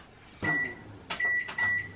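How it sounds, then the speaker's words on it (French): A microwave oven runs while heating food, a steady tone with a thin beep-like whine coming and going, under clunks and handling noises close by. "on va mettre ça au micro-ondes pour voir ce que ça donne"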